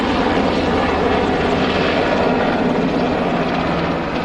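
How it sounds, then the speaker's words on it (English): A helicopter roars steadily overhead during Hurricane Katrina in Bay St. Louis, Mississippi, a loud, continuous rotor and engine wash that barely changes over the few seconds. "Helicopters constantly flying over."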